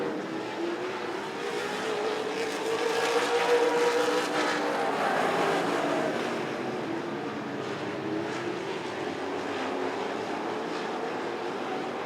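Late model stock cars roar around Rockford Speedway in a dense, continuous pack, engines droning loud and steady with a slow swell as they pass.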